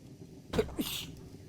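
A person gives a single close sneeze, a sharp intake followed by a quick burst, on its own and not very loud.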